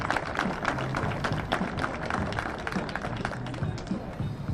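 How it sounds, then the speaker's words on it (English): An audience at a school Teacher of the Year ceremony gives a round of applause: continuous, moderate clapping of many hands with voices mixed in. "Let's give a round of applause."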